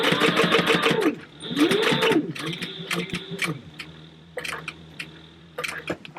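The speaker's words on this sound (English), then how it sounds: "And then I'm just sewing 1/8 of an inch, just like we did the top part." A sewing machine stitches a leather wallet panel an eighth of an inch from the edge, running in short rapid bursts with pauses between them and light handling noises in the gaps.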